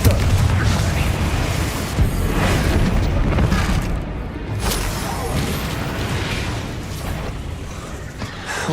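Spell explosions from Bombarda and Confringo in Hogwarts Legacy boom and burst in a dense, continuous battle din, loud and close throughout with a voice talking over the blasts.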